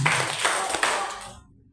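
A school audience at SMP 1 Paciran claps together in a steady rhythm, three sharp, close claps spaced evenly with no voices over them.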